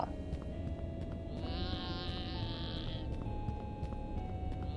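A goat in the video game The Count Lucanor gives one drawn-out, wavering bleat lasting over a second, heard over a steady low game background.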